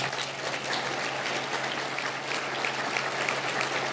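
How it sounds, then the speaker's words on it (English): An audience at an economic development corporation's annual meeting gives a round of applause, steady dense clapping from many hands, moderately distant and continuous throughout. "Let's give the SCD, Sheboygan County Economic Development Corporation, a round of applause"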